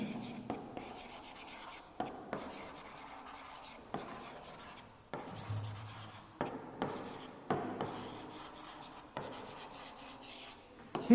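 A pen scratches across paper in a series of short, faint strokes and scribbles, pausing between bursts in a regular rhythm, close by and without talk.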